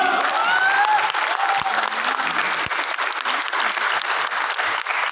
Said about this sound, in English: I'm going to give you one more moment to clap.